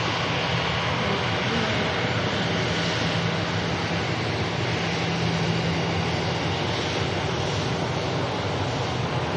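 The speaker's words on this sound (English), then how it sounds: "Ryanair 737 Max heading off to Shannon over in the Republic" Ryanair Boeing 737 MAX taking off at Manchester Airport, a steady, dense jet engine roar heard from a distance, sustained throughout with a faint low hum beneath and no talking.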